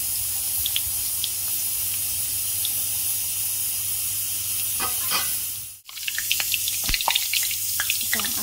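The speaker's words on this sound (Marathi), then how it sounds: "अशी होईपर्यंत कडकणी आपली तळून घ्यायची." Kadakani, a traditional Marathi fried snack, sizzle in hot oil with a steady hiss and scattered crackling pops that briefly dip, then return with sharper bubbling spatters; no talking.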